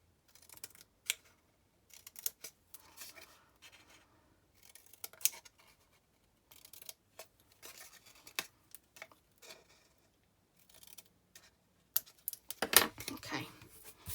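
Scissors cutting vellum paper triangles for a lantern, a scattered series of faint, crisp snips and paper rustles with short pauses between them, close and quiet.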